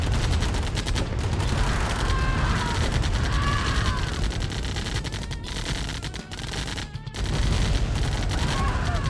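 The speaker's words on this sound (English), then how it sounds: "he's going to get shot at by this turret" Turret gunfire in the Command & Conquer Remastered strategy game, dense rapid bursts of shots over a busy battle soundscape, with brief pauses and sweeping effects layered in.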